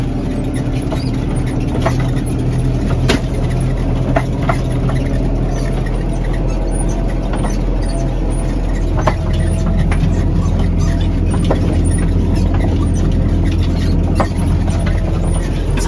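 A tractor idles and then pulls slowly onto a farm field, its engine a steady low drone. Light clicks and rattles sit over the engine throughout and a faint squeal runs high above it, with no voices.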